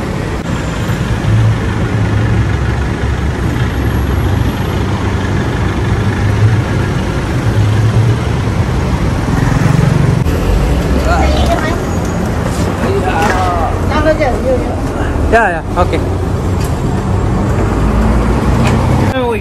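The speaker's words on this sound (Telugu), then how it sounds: "ట్రాఫిక్ అయితే గట్టిగానే ఉంది." Heavy Bangkok road traffic forms a loud, steady roar of car, bus and truck engines throughout, with nearby voices talking briefly over it.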